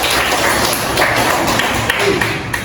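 A classroom of students applauds during a history lesson, giving uneven clapping with scattered taps and faint voices mixed in, moderately loud and close.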